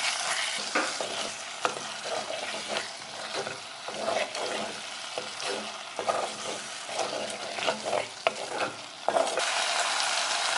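Squid roast being stirred in a pan with pepper powder and garam masala, a steady scraping and sizzling with irregular clicks and knocks of the spoon against the pan, close and fairly loud, no voices.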